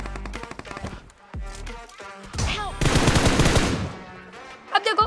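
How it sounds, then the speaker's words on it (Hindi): A shotgun fires in a shooter video game as sharp gunshot blasts and rapid bursts of gunfire crack out loud and close. Someone talks in between the shots. "अब देखो उस बंदे ने मुझे भी एक शॉटगन का फटका दिया"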